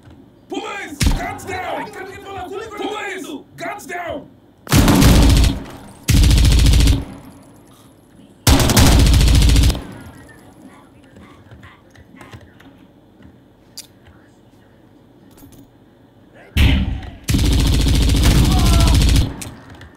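Gunfire in the shooting game Zero Hour, in a terror house mission: several loud bursts of rapid automatic fire, each lasting a second or two, separated by quieter stretches where players talk.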